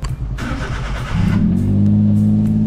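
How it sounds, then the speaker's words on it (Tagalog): A small four-wheel-drive Multicab mini truck engine cranks and catches, then settles into a loud, steady idle with a rising rev, close by. "So start natin yung ating makina."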